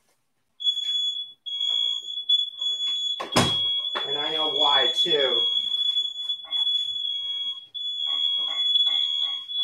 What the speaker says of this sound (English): Yeah, my smoke alarm works, as you can see.